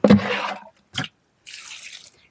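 Liquid is poured onto two young ivy gourd plants in a home garden, heard as three short, close splashing bursts separated by brief pauses, with no talking.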